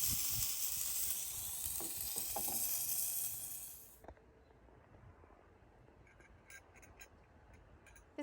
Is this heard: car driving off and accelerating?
no